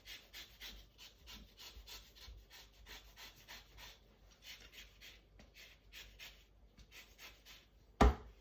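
A lemon is grated for zest in a home kitchen in a quiet series of quick, rhythmic rasping strokes, close and faint, ending with one sharp knock.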